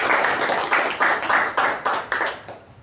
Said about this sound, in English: give timer or counter PP Grammarian a thunderous round of applause